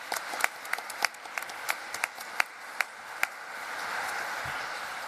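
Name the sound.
audience applause for conference panellists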